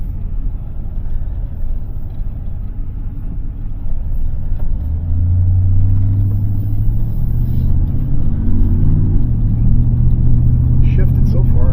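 A Chevrolet Silverado pickup truck drives along with a steady, loud engine rumble, its pitch rising and settling as it shifts up through the gears, with a voice talking over the engine noise.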